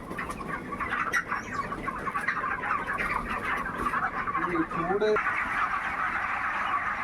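A crowded broiler chicken shed on a poultry farm gives off a continuous, dense chorus of peeping and clucking, loud and close, while someone talks over the flock.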